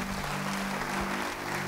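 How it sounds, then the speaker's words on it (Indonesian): Church congregation applauding during a sermon, a soft, even patter of many hands at a distance, with a low steady hum beneath. "Beri tepuk tangan bagi dia."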